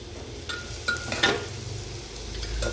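Grated carrots and cashews are stirred in a hot pot, giving a soft sizzle and frying hiss under light scraping and a few metal clinks from the spoon. The sound is close and steady, with no one talking.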